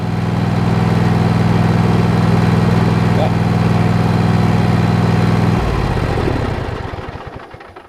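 A Husqvarna Z Series 248F zero-turn lawn mower engine runs at a steady, loud, close drone, then shuts off, winding down and fading to silence over the last two seconds.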